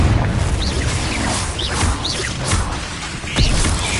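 A Confringo fire spell in Hogwarts Legacy goes off in loud, rumbling blasts with whooshing bursts and impact crashes, layered over dense, booming game action.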